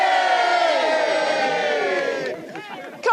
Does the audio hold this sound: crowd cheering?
yes